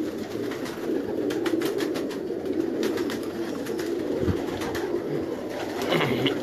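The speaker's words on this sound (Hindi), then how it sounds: "ये लाल सरे इंडियन राम गोल्डन कबूतर है" Indian golden pigeon cooing steadily in a loft among other birds, with a continuous low murmur of coos and bursts of wing flutter throughout.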